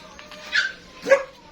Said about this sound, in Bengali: আমরা তাকে একটা ডগ দিব এই যে আমাদের জেডির বেবি